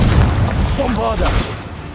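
Bombarda blasting spell going off in Hogwarts Legacy, a short, close, heavy boom under overlapping voices.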